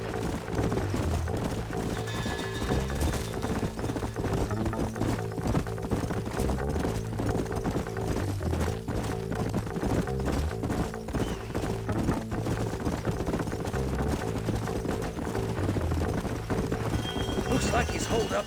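Horses gallop with rapid, rhythmic hoofbeats in the video game Red Dead Redemption under a layer of music and voices, the pounding steady and close throughout.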